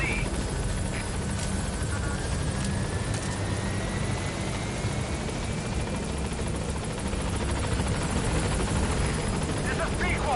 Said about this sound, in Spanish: Vale, helicóptero.